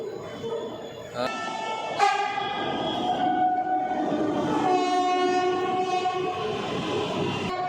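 A Pune Metro electric train hums and whines at an elevated platform, with rising tonal motor pitches and a couple of sharp clanks, steady and fairly loud.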